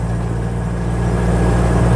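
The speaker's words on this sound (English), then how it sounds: "now we're going uphill in third gear. She's not loving life" A 1958 Ford Thames 400E bakery van labours uphill in third gear, its engine giving a steady, loud, low droning hum that builds slightly in strength throughout, heard from inside the cab with no talk.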